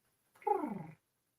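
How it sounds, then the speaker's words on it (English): A single cat meows once, a short close meow that slides downward in pitch, in otherwise quiet surroundings. "He is a good cat."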